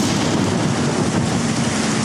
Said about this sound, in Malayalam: മഴയും കാറ്റും ഇടിയും വന്നു